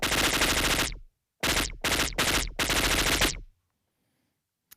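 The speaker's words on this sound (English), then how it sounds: "So the resonance being really high. Yeah, when you want to create your space machine gun." Synthesized space machine gun effect made with very high filter resonance: a loud burst, then three short rapid bursts and a longer one, each with a falling, ringing buzzy tone, ending in silence.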